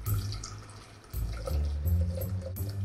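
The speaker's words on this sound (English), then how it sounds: "I will attempt to pour it into this blender without getting any on myself or my kitchen." Thick chili sauce glugs and splashes into a kitchen blender, a close, wet pouring sound with low gurgles throughout.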